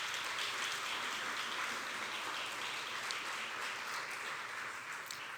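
A church congregation claps together in sustained, dense applause that holds steady and fairly loud throughout, with no voices standing out.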